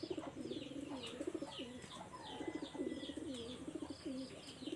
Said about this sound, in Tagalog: Tumaas sila mga kalapatids. May ikot-ikot pa.